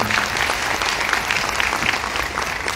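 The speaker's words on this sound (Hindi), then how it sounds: "आप प्लीज सर उनके लिए भी तालियां बजा दीजिए" An audience at a Modicare gathering claps for a guest's husband, a loud, continuous patter of many hands filling the room from start to finish.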